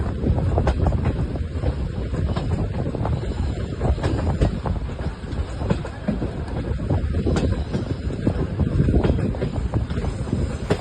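A passing train bound for Madurai rumbles past loudly and steadily, wheels clattering on the rails, with gusty wind buffeting the microphone throughout.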